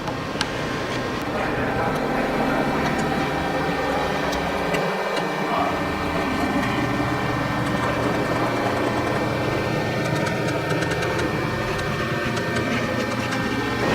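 A CNC router in a woodworking shop creeps slowly upward on its Z axis, giving a steady mechanical hum with faint clicking over the full stretch and no talk.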